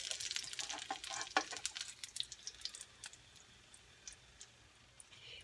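Mexican egg rolls frying in hot oil, a soft, steady sizzle with crackling pops that are busiest early and then settle into a quieter, even hiss.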